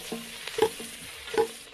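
A spoon stirs black pepper and spices frying in a pan for a Kerala-style mutton stew, with two scraping strokes over a soft sizzle and no voices.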